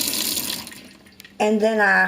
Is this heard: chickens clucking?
no